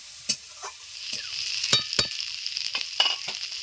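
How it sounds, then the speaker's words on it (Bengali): Young jackfruit pieces frying in oil in a pan give a steady close sizzle, broken by sharp scraping clicks of stirring spread across the clip, with no talking. "ভালো করে ভেজে নিচ্ছি"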